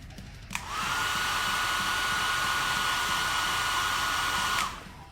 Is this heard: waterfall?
no